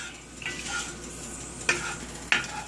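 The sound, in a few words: spices heating in hot oil until they pop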